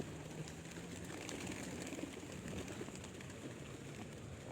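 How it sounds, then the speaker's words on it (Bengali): Russian pigeons cooing softly while being fed outdoors, low murmuring coos under a steady background hiss, no speech. "অনেক সুন্দর কবুতর অনেকগুলা কবুতর"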